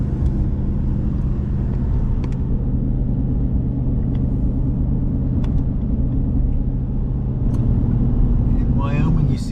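A car cruising on a Wyoming highway with a broken windshield gives a loud, constant low road rumble and engine drone throughout, with a person talking over it.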